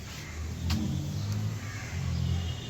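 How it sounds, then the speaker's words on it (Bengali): A 2012 Toyota Land Cruiser Prado engine runs steadily at a fairly loud, close level, with a low continuous rumble that swells slightly once or twice as if lightly revved. "তো চলুন গাড়িটি ইঞ্জিন কন্ডিশনটা দেখি। এই হলো গাড়িটি ইঞ্জিন কন্ডিশন।"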